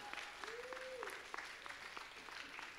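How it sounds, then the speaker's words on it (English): A congregation claps during a Sunday church service, giving sustained, fairly quiet applause from many hands over nearly three seconds, with a brief tonal sound near the start. "Come on, give a clap for God."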